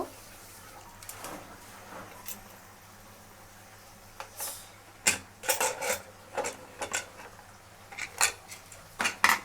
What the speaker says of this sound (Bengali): এবার আমি প্রেসার কুকারের ঢাকনাটা খুলব